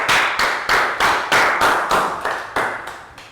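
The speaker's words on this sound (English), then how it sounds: "Big round of applause for Nadia." A classroom group claps in rhythmic unison for a student, about ten sharp evenly spaced beats, loud and close.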